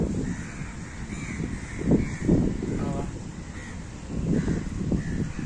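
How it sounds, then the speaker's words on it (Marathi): A crow perched outside a window caws several times in short harsh bursts as rain begins, spaced irregularly, fairly close, over a background of steady ambient hiss. "कावळा बाबा बसले"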